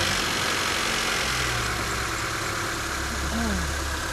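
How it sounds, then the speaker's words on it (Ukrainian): A Renault Megane engine idles steadily after a cold start at close range, a continuous low rumble with a slightly rough, even tone. "Зараз заведемо автомобіль на холодну і подивимося, як працює двигун."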